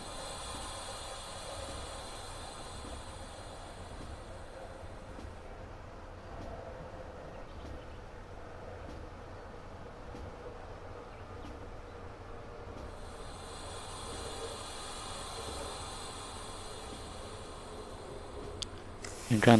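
An EP07 electric locomotive brakes in the MaSzyna train simulator, giving a long steady hiss and low rolling rumble with someone talking over it.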